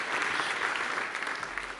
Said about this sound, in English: You can applause again if you like to.